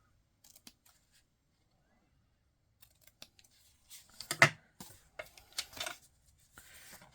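Scissors cut through craft paper in a series of crisp snips, faint and sparse at first, then clustering into several close, sharp cuts.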